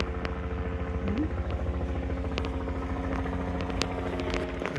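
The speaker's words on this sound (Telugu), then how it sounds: "హెలికాప్టర్ అనుకోకుండా సౌండ్ వినిపిస్తుంది కదా మీకు" A steady low rumbling drone of a helicopter engine overhead near Santa Clara City Hall continues throughout, with occasional sharp clicks and clatter nearby.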